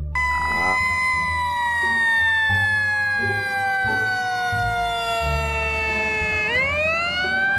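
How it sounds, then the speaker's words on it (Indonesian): A fire truck siren wails loudly and steadily from start to finish, its tone gliding slowly down and then sweeping back up near the end, over low rumbling, with a brief spoken exclamation. "kita mendapatkan mobil pemadam kebakaran"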